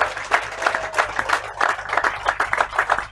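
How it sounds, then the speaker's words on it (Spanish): A crowd at a street march claps and applauds continuously, with dense, loud clapping that swells and dips and some murmuring voices mixed in. "el aplauso grande para Amado"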